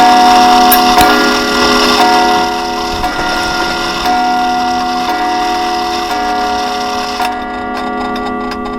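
A clock ticks steadily in a clock room in a horror video game, loud and close over a sustained droning, ringing backdrop, with no voices.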